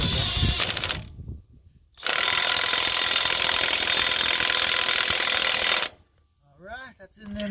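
A ratchet with a 35mm socket drives an axle nut on a 2002 Toyota Tundra 4x4. There are short clicking bursts, then a loud sustained mechanical rasp for several seconds, then quiet and faint noises afterward.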